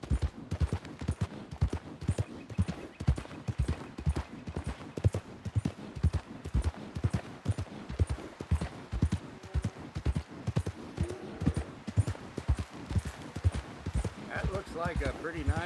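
Horse hooves in Red Dead Redemption 2 clip-clop in a steady, fast rhythm for the whole stretch, close and prominent, while someone talks over them.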